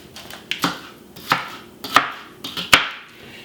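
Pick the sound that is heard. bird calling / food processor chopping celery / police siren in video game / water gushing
food processor chopping celery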